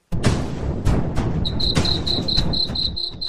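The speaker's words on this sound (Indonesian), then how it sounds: "kalian bangun bukan untuk jam alarm, tetapi suara jutaan jangkrik" A loud, dense insect chorus from millions of Brood X cicadas, with a steady high pulsing drone repeating rhythmically over a broadband buzzing wash.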